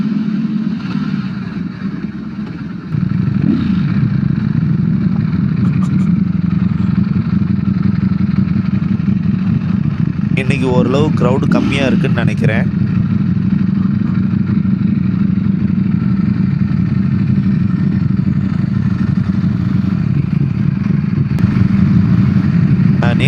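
A Ducati Streetfighter V4S ridden through the city at night, its engine holding a steady, close drone under wind rush, with a brief clatter midway, while someone talks over the ride.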